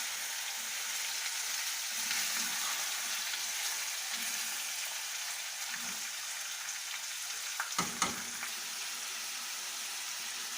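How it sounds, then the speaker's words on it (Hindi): Chicken sizzling with spices in a karahi, a steady crackling fry with a few louder spits and stirring clatters near the end, close and continuous with no talking. "और अब इसको मसालों के साथ भूनना है।"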